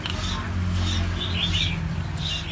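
A white-rumped shama at a market bird stall gives short, bright chirps and whistles in bursts over a steady background murmur.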